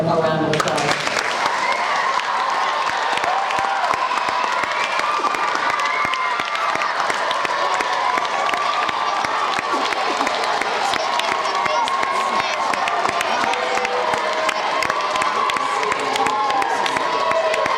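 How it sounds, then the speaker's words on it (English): Audience applause for fourth- and fifth-grade geography bee participants: sustained, loud clapping with some cheering that starts abruptly and continues steadily throughout. "So I think they all deserve a round of applause."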